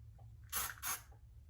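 Two short hissing bursts of an aerosol spray, close and quiet, separated by a brief pause against a low background hum.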